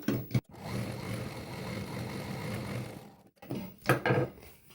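A sewing machine hums at a moderate level, stitching lining to the main piece of double-layer curved handles. It runs in a long continuous stretch broken by two brief pauses, then ends in short bursts.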